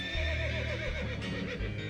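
A striped horse in the Reverse: 1999 video game gives a loud, wavering whinny, its neigh rising and falling over about two seconds against a dense layered game soundscape.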